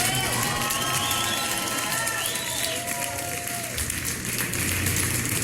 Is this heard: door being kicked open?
no